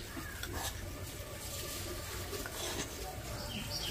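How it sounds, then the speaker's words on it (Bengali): A spoon stirs six spoonfuls of powdered milk into water for sweet mishti doi, a steady close scraping and swishing that runs continuously under a constant noisy background. "6 চামচ গুঁড়ো দুধ দিয়ে গুলে নিচ্ছি।"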